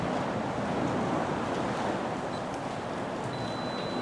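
Sea waves washing in on the shore make a steady, moderate rushing surf with light wind and no distinct breaks or voices.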